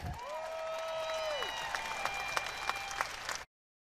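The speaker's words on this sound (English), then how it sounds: "Let's give a round of applause for your 2024 National Collegiate Air Rifle Individual Champion." An audience applauds the 2024 national collegiate air rifle individual champion at the NCAA rifle championship, steady clapping from a crowd with a few distinct claps on top, then cutting off abruptly.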